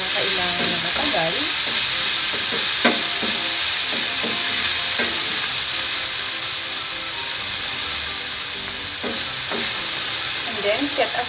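Fermented black beans (tausi) sautéing in a pan with a steady, close sizzling hiss, broken by scraping stirs and clinks of a utensil throughout, with no talking.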